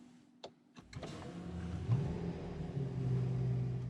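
A Rolls-Royce Wraith Eagle VIII starts up: a couple of faint clicks come first, then the engine catches and settles into a smooth, quiet idle with a gentle rise in revs, heard alone without talk.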